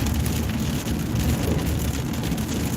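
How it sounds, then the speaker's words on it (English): Persistent rain pouring down steadily, a thick wash of hiss with a low rumble underneath and no talking. "it is raining quite a bit more persistently"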